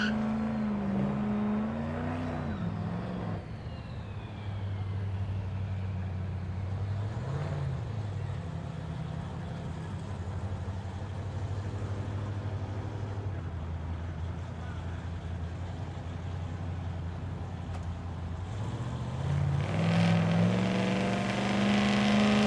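A Mustang revs and drones steadily at a drag strip in Noble, Oklahoma, its engine holding a loud low rumble before rising sharply near the end, heard up close throughout with no talk.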